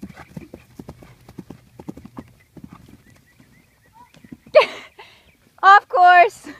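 A ridden horse during a riding lesson, its hooves beating a steady, fairly close clip-clop that fades for a moment, followed by loud, brief vocal bursts near the end.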